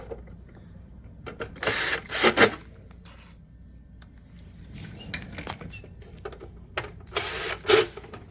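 Screws are driven into the cover of a Xerox PrimeLink C9070 printer, heard as two short whirring bursts of a power driver followed by clicks and small taps at close range in a quiet space.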